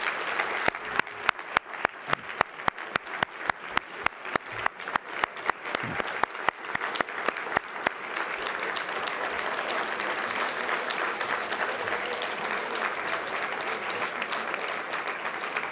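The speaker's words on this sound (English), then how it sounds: "I'd like to offer one more round of applause for all of these years' honorees" Sustained audience applause for award honorees at an evening Profile in Courage Award ceremony dinner, starting with a few sharp, distinct claps before swelling into a dense, steady roar of clapping across a large hall.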